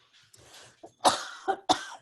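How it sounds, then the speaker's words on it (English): A man's chronic cough, several sharp, close coughs in quick succession with a softer throat-clearing rasp before them, alone without speech. "I do actually have a chronic cough"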